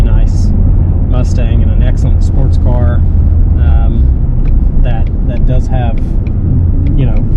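A 2020 Shelby GT350 Mustang's engine runs loud and steady with a deep continuous rumble close by, while people talk over it.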